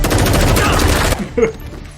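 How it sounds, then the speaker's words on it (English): A burst of rapid gunfire from the TV show Person of Interest, dense and loud for about a second, then cutting off to quieter sounds and a brief voice. "They can't just shoot aimlessly."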